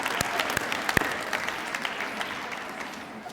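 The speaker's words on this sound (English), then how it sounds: "That deserves an applause." Audience applause for an elementary school teacher receiving a Good Apple award at a ceremony, a steady wash of clapping from a seated crowd with a few sharper close claps standing out, lasting a few seconds.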